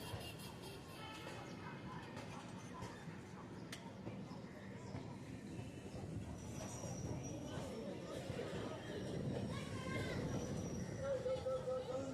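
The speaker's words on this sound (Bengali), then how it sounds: "ট্রেন এখন লেক গার্ডেন ছেড়ে বেরিয়ে যাচ্ছে আমাদের পরবর্তী স্টেশন বালিগঞ্জ" Local train running out of Lake Gardens station on the Budge Budge–Sealdah line, a steady loud rumble of wheels and carriage with occasional faint squeals, heard from inside the coach throughout.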